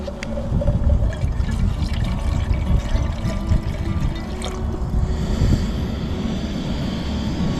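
Water is poured into a pot on a firebox camp stove outdoors, a continuous splashing trickle with a few clinks, heard close over low background rumble.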